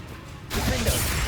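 A Confringo spell blast fires in the Hogwarts Legacy video game, a sudden loud burst that erupts after half a second of quieter ambience and sustains as a dense crackling roar to the end.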